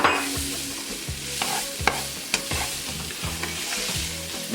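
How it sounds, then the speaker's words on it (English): Scallion and thyme frying in a pot for oxtail rasta pasta, stirred constantly: steady close sizzle with repeated scraping strokes of the spoon and a few sharp clinks against the pot. "Keep stirring it there, don't stop stirring it."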